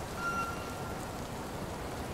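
Steady rain falling in the video game Born Punk, an even wash of dense hiss with soft patter on surfaces, continuous and moderately loud, with no talk.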